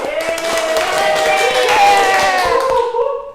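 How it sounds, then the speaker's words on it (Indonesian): Classroom of students clapping hands together during a microteaching lesson, dense continuous patter of many hands mixed with children's voices and shouting. "Beri tepuk tangan kita semua."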